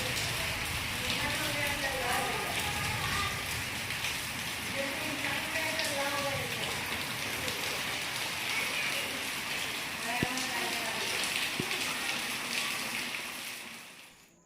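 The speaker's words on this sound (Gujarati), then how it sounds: "હજુ આપ જોઈ રહ્યા છો એમાં હજુ વરસાદ તો ચાલુ છે" Rain falls steadily in Kheda, Gujarat, easing from a heavier downpour into a continuous soft patter, with a person talking over it most of the time.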